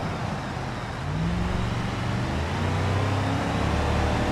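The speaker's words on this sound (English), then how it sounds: "The truck handles pretty well" A truck driving in BeamNG, a steady low engine drone and road rumble that swells slightly as it accelerates, continuous with no talk.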